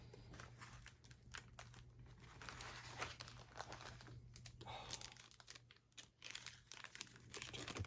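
Plastic wrapping is peeled off a metal 1:200 scale British Airtours Lockheed L-1011 TriStar model, producing close, quiet crinkling and crackling in irregular bursts with small taps.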